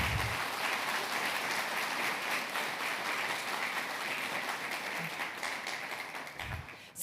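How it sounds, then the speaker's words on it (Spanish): A church congregation giving sustained applause, a dense wash of many hands clapping at once that holds steady for several seconds before thinning out near the end, with no talking over it. "¿Le da un fuerte aplauso?"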